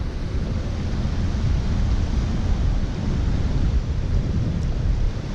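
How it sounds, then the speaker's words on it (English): Small mountain creek in California's gold country, a steady broadband rush of flowing water that stays loud and continuous throughout, with no voices heard. "It's a real pretty little creek."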